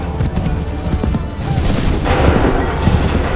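A musket volley rings out in Assassin's Creed 3, a loud, dense burst of many shots fired together, followed by rolling booming echoes that stay heavy and continuous to the end.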